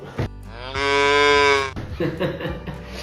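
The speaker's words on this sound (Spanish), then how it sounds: "Mu, como hacen las vacas." A single cow moos in one loud, drawn-out tonal call, close by, with a few brief knocks before and after it.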